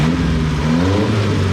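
A 1984 Mazda small truck engine revs up close, its rumbling pitch rising and then settling back toward a steady idle.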